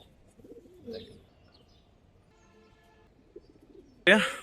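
Silver-coloured and army pigeons giving low, soft coos in a pen, faint and intermittent, with a louder rustling burst near the end.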